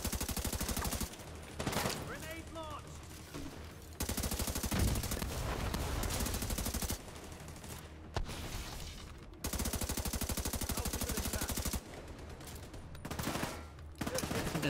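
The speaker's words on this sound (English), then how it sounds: "I'm gonna try to get on the big gun again." A mounted heavy gun in The Division 2 fires in long sustained bursts, loud rapid automatic fire broken by brief pauses, with game effects and other shots mixed in.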